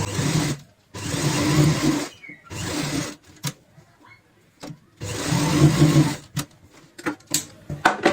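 A sewing machine stitches a folded cushion cover strip in bursts, whirring runs of about a second each separated by pauses with small clicks and handling noises, close and loud with no talking.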